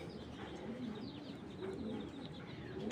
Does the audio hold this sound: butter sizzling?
no